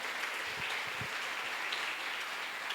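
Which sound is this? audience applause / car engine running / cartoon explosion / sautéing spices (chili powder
audience applause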